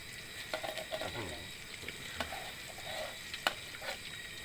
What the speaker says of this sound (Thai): ดูนะครับดูนะครับดูวิธีการทอดนะครับ